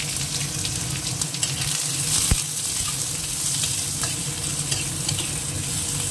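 Cumin seeds and chopped onion frying with chicken pieces in a pan, a steady close sizzle with light stirring and scraping throughout, one sharp clink partway through, no voices.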